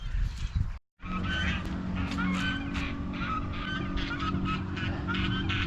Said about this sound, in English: Birds are squawking.